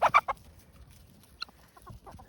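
A backyard chicken among a small mixed flock clucks in a few short bursts at the start, then softer scattered calls follow at moderate distance.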